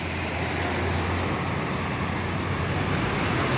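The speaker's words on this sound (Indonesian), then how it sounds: "Bus Mira yang pulang ke Garasi ini dari terminal." A loud, continuous roar of a Mira bus engine and road noise as the bus drives by on a busy arterial road near Medaeng junction.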